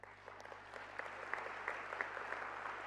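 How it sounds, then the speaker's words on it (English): A convention hall audience claps steadily at a peace convention, moderately distant and fairly soft, individual claps faintly distinct within the even wash of applause. "So could we give them a round of applause?"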